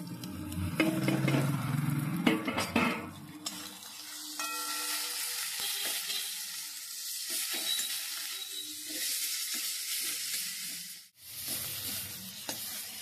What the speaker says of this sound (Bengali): এবার খুব ভালো করে আমি ভেজে নিচ্ছি।